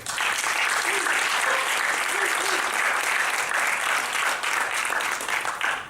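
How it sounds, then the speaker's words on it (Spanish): A crowd applauds loudly and steadily throughout, a dense wash of clapping with no pauses. "Pido un fuerte aplauso para Imanol Caballero."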